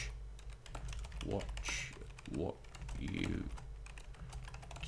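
Rapid computer keyboard typing clatters close by during video game play, with bursts of keystrokes running continuously while a voice speaks briefly over it.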